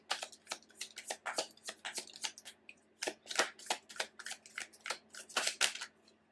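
Tarot cards being shuffled and handled up close, crisp papery riffles and slaps in quick uneven bursts with short gaps, quiet and alone.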